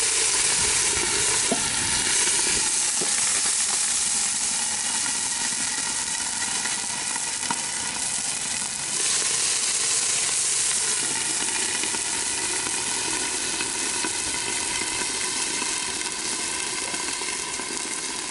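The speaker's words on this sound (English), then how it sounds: "I'm going to use my steam lid here and put a little bit of water in there." Water poured under a steam lid on a Blackstone griddle sizzles and hisses while Mongolian grill food cooks, a loud, steady, even frying hiss that carries on for the whole stretch with no talk.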